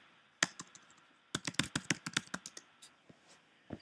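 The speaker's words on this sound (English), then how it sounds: "requires typing your password." A password is typed on a computer keyboard: one sharp keystroke, then a quick burst of about a dozen close, crisp key clicks, with a final tap after a pause.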